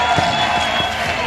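A church congregation ululates and applauds in honour of the mothers, a dense, steady wash of crowd noise with a few sharp claps standing out, loud and close throughout.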